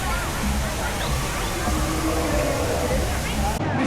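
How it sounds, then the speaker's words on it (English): Rushing, sloshing water on a river raft ride at Disney's Animal Kingdom, a steady loud wash with a crowd babbling underneath, cutting off abruptly near the end. "we are on the Navarre River ride"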